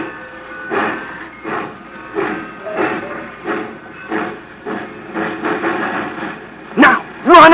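A steam train being made up on a second track in a 1950s radio mystery drama: steady rhythmic chuffing puffs, fairly loud, with a sharp hiss or whistle burst near the end.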